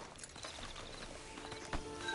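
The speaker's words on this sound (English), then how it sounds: "Get on the horse there." Horse hooves clip-clopping at a walk in a video game, a steady soft rhythm of hoofbeats at moderate distance with faint background ambience and no speech.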